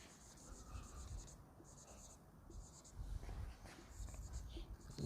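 A pen scratches out a straight line on paper, producing soft repeated strokes that are close but faint, with a quiet voice murmuring underneath.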